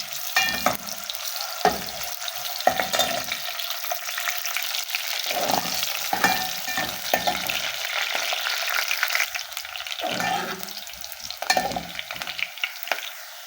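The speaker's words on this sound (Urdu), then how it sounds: "آئل گرم ہو گیا، اب اس میں پیاز ڈال لیں گے۔" Onions fry in hot oil in a pan, a steady close sizzle broken by scraping stirs of a utensil, with no talking.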